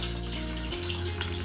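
One litre of mineral water poured for making water kefir, a steady close splashing stream running throughout with no talking.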